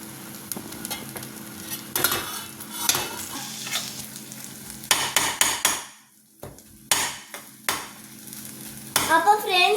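Brain frying in a pan with wilted vegetables, a steady sizzle under repeated sharp clatters of a utensil stirring and tapping against the pan, with a brief quiet gap midway.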